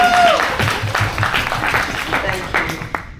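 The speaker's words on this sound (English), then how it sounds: "I think that deserves a round of applause." A room of listeners at a club meeting breaks into steady applause that fades gradually, with a voice talking faintly over the clapping.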